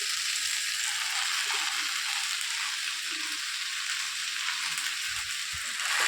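Steady, loud sizzling of spinach dropped into a pan of frying fish head and vegetables, a continuous bright hiss with faint stirring scrapes underneath and no voices.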